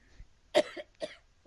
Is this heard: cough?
yes